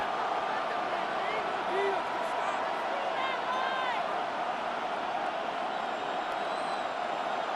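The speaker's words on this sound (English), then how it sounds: "This crowd urging the defense on." Stadium crowd in the Madden NFL 26 video game, an AFC Championship simulation of the Texans against the Broncos, roars steadily as a defense is urged on, a dense constant cheer with faint whistles and whoops under a commentator's voice.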